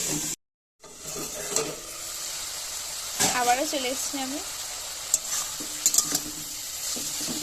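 Cauliflower, fried soft after being covered, sizzles steadily in a pan with occasional stirring clinks, while someone speaks briefly over the frying.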